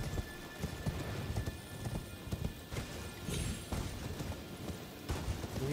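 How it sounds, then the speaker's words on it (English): A horse gallops in the fantasy action game Elden Ring, a steady run of hoof clops over a dense, rumbling ambient bed, moderately close and without talk. "Didn't hear my horse galloping behind you?"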